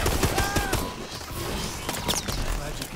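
Rapid bursts of automatic gunfire from the video game Call of Duty: Advanced Warfare crackle in dense volleys through a busy battle mix, loud and continuous.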